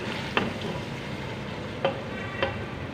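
Peas and mutton sauté in a pan for matar gosht, a soft steady sizzle broken by three brief scraping stirs of a spoon, close and quiet with no talking.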